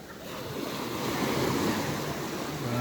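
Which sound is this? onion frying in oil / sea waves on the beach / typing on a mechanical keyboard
sea waves on the beach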